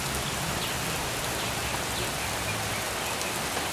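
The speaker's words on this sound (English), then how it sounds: "It's raining too hard." Heavy rain pours down steadily outdoors during a severe storm with a tornado nearby, a dense even roar of drops striking surfaces close by, with no voices.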